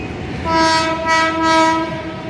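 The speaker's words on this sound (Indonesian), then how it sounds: "sedang ada kereta KAI komuter yang melintasi dari arah Tanjung Priok menuju kota" A KAI commuter train heading from Tanjung Priok sounds a loud, sustained horn as it passes nearby, the harmonic blast swelling in a few pulses over the rumble of the rails.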